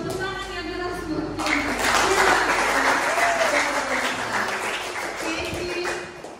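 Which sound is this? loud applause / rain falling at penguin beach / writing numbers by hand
loud applause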